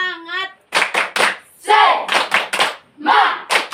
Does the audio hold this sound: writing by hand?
no